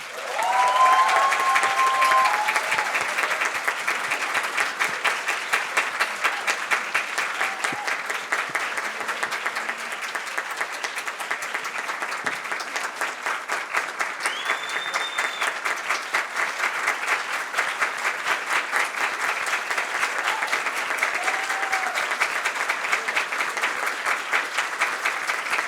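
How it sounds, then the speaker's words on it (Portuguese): A large audience at the grand final of a Brazilian national debate championship in Brasília claps steadily and loudly for the finalists, sustained dense applause with a few faint voices underneath. "vamos agradecer com uma salva de palmas aos nossos finalistas"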